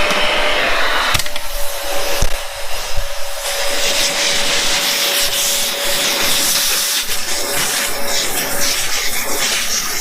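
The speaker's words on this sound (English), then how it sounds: "So this is a cracking idea of mine, Hoover on remote control." A vacuum cleaner switched on by remote control roars loudly and continuously in a woodworking workshop, its steady hiss and whine running for the whole stretch with a few bumps and knocks at the start.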